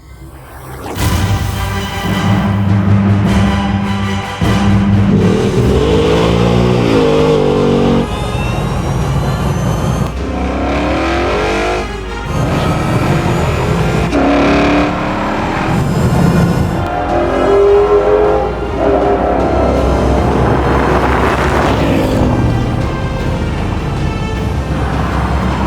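Gas Ford Mustang GT and electric Mustang Mach-E launching side by side in a drag race, a loud close engine roar that climbs through several rising shifts and revs over about twenty-five seconds, with no talking.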